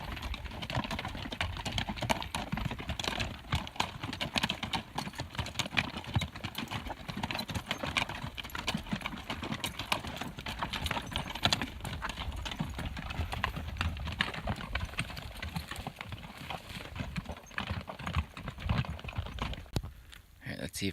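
Horses clip-clop steadily along a Pacific Crest Trail footpath, hooves striking in a continuous close rhythm across the whole stretch, with people talking over the footfalls.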